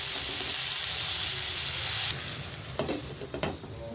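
Cabbage cooking with Gobindobhog rice in a pan gives a constant loud frying sizzle, which then eases into lighter crackling as a spoon scrapes and stirs in short bursts.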